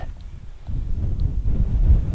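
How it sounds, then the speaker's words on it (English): Strong wind on an exposed ridge in New Hampshire's White Mountains buffets the microphone in low, rumbling gusts that swell toward the end, with no one speaking. "it's very windy, but the breeze feels really good"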